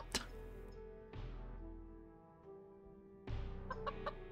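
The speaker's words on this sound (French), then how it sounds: "Une poule." A chicken in a video game clucks in a few sharp, separate bursts with pauses between, loud and close, alone with no talk over it.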